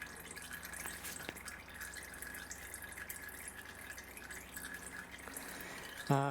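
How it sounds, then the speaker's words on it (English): Engine oil drips from the drain plug of a Mercedes 190E during an oil change, a few faint, sparse drops over a low, steady background hiss. "So for now, I'm gonna let that drip for a while and then we'll get back to it."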